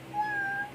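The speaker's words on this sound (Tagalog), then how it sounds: "Yan po may pusa. Hi pusa." A cat gives one short, clear, close meow, rising and then holding steady, with no talking over it.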